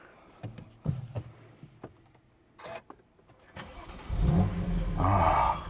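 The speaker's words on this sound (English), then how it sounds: "Let me switch the car on so you can see everything come to life." A BMW M2 Competition is switched on: a series of clicks and electric whirs from the cabin, then the engine cranks and catches into a loud, close rev.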